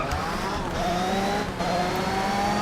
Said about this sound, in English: Let's get our revs rising.